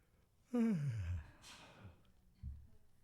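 A person nearby gives a single drawn-out yawn, starting loud and voiced, sliding downward in pitch and trailing off into a breathy exhale, followed by a brief soft breath.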